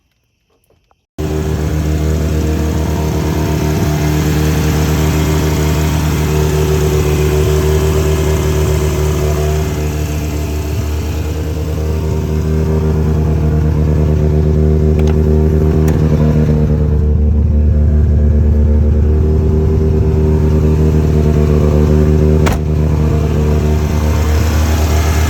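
Turbocharged Mazda FC RX-7 rotary engine firing up, then idling steadily close by with a loud, buzzy drone and occasional rises in revs, running alone for over twenty seconds.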